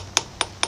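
Three crisp metallic taps of a ball peen hammer on a lathe part, evenly spaced and ringing briefly, close by with no talking.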